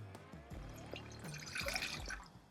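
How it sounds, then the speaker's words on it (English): Water poured into a cooking pot while making a glaze for chicken wings: soft, close trickling and dripping with gentle splashes, quiet and continuous for a couple of seconds. "So into the pot I'm going to add some water."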